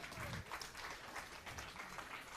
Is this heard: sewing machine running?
no